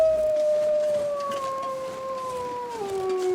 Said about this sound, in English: Apparently wolves that howl will get responses from other wolves.